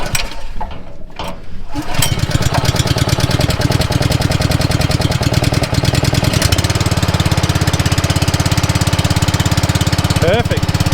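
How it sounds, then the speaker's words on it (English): A brand new small engine-driven pump starts after a quiet moment, then runs steadily with a loud, dense mechanical chatter that shifts into a deeper, fuller drone partway through, continuing close and constant. "We'll give this little brand new pump a start."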